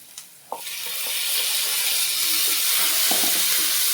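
Chopped tomato goes into a hot pan, a couple of clacks and then a sizzle that swells into a steady hiss and holds.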